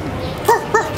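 A person imitates a dog barking with two short, close, yelping woofs in quick succession.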